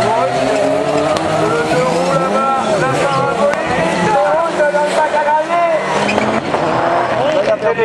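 A Ford Focus rallycross race car charging over seaside gravel, engine roaring loud and close with revving shifts and tire noise, under excited commentary from a speaker.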